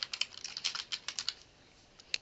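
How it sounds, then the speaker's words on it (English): Someone types a paper's title on a computer keyboard, with a quick, irregular run of close, crisp key clicks. The clicks thin out and pause, then one last tap comes near the end. "you could type your paper's title at the top here as well"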